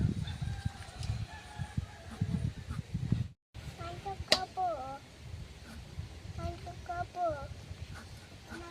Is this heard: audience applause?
no